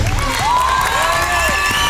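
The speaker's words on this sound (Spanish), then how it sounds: "Vamos a hacer los aplausos." A studio audience on a variety television show claps and cheers loudly, with whoops and raised voices blending into a continuous crowd roar.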